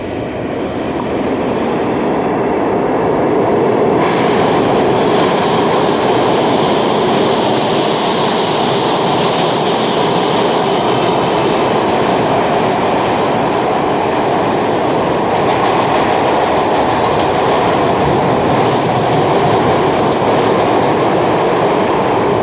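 A SEPTA Broad Street Subway train roars through a station, a loud sustained rumble of wheels on rail with rhythmic clatter and occasional high squeals, the noise building early and staying heavy throughout.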